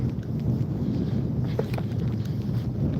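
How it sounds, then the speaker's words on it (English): Wind gusts across a microphone outdoors on a cold walk during a fossil-hunting outing, a steady low rumbling buffet throughout with no voice heard. "Oh, it is windy and cold."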